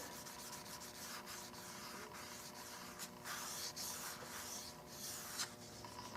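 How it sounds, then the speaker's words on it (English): Sanding the wood of a Winchester Model 100 rifle to remove 220-grit sanding marks along the edges, a steady close rasping rub that runs throughout with a few stronger strokes and no talk. "I'm just taking the sand marks off of these edges because I only went down to 220 on the wood."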